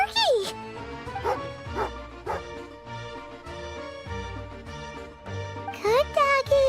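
A video game dog gives short yips and bow-wow barks, a few bursts spread over several seconds, mixed with a bright game music bed and talk.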